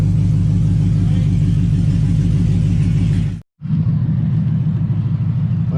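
An LS-swapped Camaro engine idles loud and close with a steady deep rumble, cutting out sharply for a split second before catching and running on just as strongly.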